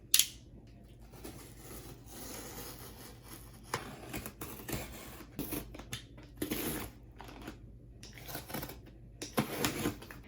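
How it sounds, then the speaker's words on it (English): Scraping and slicing sounds of a box cutter blade cutting through the packaging and tape of a manga parcel, with scattered rustles and crinkles, close and moderately quiet. "let's just use a box cutter to be safe"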